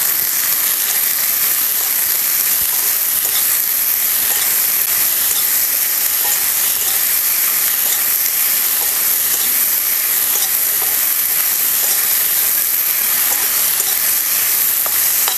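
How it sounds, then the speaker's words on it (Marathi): Ridge gourd roasts in a little oil in a pan, giving a loud, even, continuous hiss and sizzle that runs unbroken with no voices. "थोडंसं तेल घालूया, आणि हे भाजून घ्यायचं"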